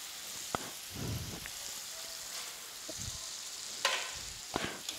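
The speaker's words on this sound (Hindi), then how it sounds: "थोड़ा टमाटर को भी भून लेंगे।" Tomatoes frying in an oily spice masala for a carrot, potato and pea dry sabzi, with a steady soft sizzle, occasional stirring scrapes and sharp clicks close by, no talking.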